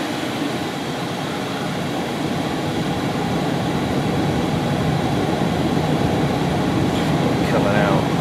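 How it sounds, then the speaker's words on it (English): A 2004 Chrysler Sebring Convertible heater fan blows warm air with a steady, loud broadband whoosh that holds evenly throughout, swelling slightly as it runs. "now it's putting out nice warm air"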